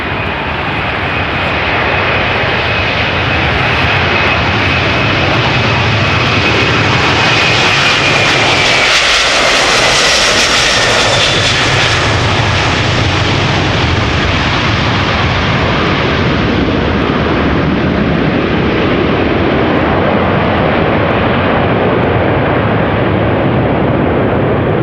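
A KLM Airbus A330-300 jet departs Amsterdam Schiphol Airport on takeoff, its engine roar loud and close, swelling to a peak as it passes overhead and then holding a steady broad rumble with a faint whine.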